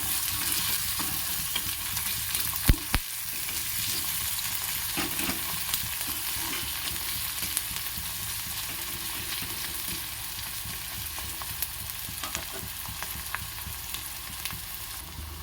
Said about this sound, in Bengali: তেলটা একটু বাড়িয়ে দেবো মশলাটা ভাজাটা হওয়ার জন্য